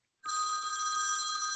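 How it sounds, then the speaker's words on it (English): A telephone rings during a town zoning meeting: a steady electronic ring starts abruptly and holds loud and continuous, with no one talking over it. "Gary, I think your phone's ringing."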